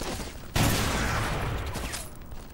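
A sudden burst of continuous gunfire in the video game Black on the original Xbox breaks out after a half-second of quieter noise and stays loud and dense, like a sustained volley of shots.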